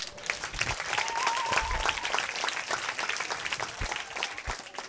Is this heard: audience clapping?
yes